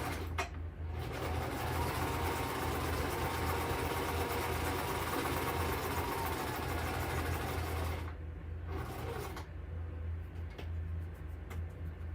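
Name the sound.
sewing machine sewing on a card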